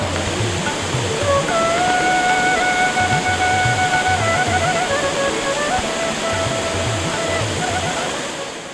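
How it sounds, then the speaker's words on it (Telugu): Waterfalls and streams at Kandirevula send out a loud, constant roar of falling water, with a faint tonal whine drifting over it for several seconds. "మనోజ్ఞ జలపాతాలతో, మనోహర సెలయేళ్లతో, నీటి మడుగులతో ఒప్పారే రమణీయ స్థలం కందిరేవుల."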